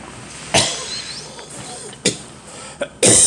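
Several sharp coughs from a woman burst out at irregular intervals, four distinct fits spread across a few seconds, close and fairly loud against a quiet room.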